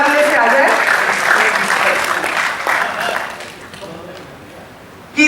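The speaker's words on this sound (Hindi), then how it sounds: "महिलाओं की जोरदार तालियां इस मोहल्ले से आ जाए।" Loud audience applause fills a hall at a Hindi comic poetry gathering, sustained clapping that fades out toward the end before a sudden burst returns.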